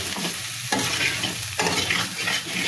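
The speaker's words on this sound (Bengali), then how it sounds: "এই যে আমি আলুর সঙ্গে মশলাটা ভালো করে কষিয়ে নিলাম।" Potatoes with spice masala and whole-spice tempering fry in a pan, a continuous sizzle broken by a few distinct scraping stirs of a spatula, close and without talk.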